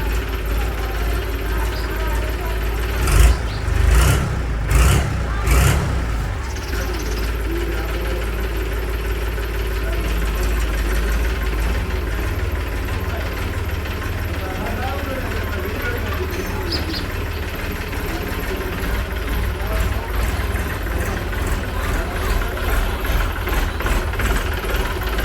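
Tractor engine idling outdoors with a steady low rumble throughout, a few louder revving bursts near the start, and people talking over it.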